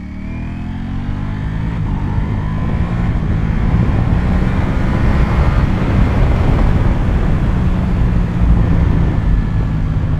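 A 2022 Ducati Panigale V4S rides at around 70 mph, a steady low engine drone mixed with heavy wind rush that holds loud and constant throughout, with no speech.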